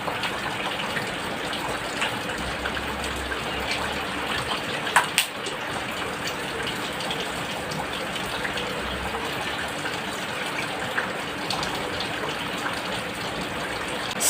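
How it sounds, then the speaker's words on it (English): Tap water gushing steadily as hands are washed for hand hygiene before a nasogastric tube insertion, a continuous close rush with a couple of brief knocks and no talk. "Step 4 is we're going to perform hand hygiene before the procedure."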